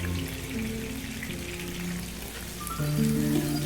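Cubes of marinated chicken sizzle and spit in a frying pan, a steady close crackle of hot oil with low background hum throughout.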